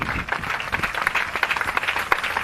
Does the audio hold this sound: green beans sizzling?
no